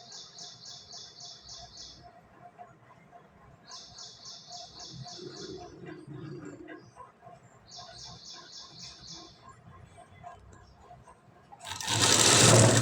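A sewing machine stitches cloth for neat dot work in three separate bursts of rapid, even whirring, with a steady low hum of room noise between runs and a loud clatter at the very end.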